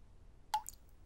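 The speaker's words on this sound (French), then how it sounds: "le robinet fuit toujours" A single water drip from a leaky faucet lands with a soft, sharp plop, isolated against near silence.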